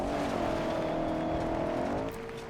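A BMW executive sedan driving off-road, its engine holding a steady, loud drone with a sustained tonal hum that dips slightly near the end, heard close and alone without talk.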